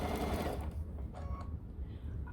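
A sewing machine stitches a scrap quilt made quilt-as-you-go, a steady close whirring hum that drops slightly partway through as the fabric is guided.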